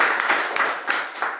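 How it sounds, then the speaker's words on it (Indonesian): Brief applause for a presenter at a university teaching session, a small group clapping steadily at moderate volume with a few louder claps standing out, no talk over it. "Tepuk tangan dulu untuk Cindy"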